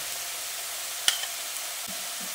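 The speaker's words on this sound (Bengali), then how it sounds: "এবার আদা রসুন ও কাঁচা লঙ্কার পেস্টটা দিয়ে মশলার সঙ্গে বেশ কিছুক্ষণ কষিয়ে নিচ্ছি" Ginger, garlic and green chilli paste fries with spices in a pan for a katla fish korma, giving a soft, steady sizzle with a single sharp clink partway through and no talking.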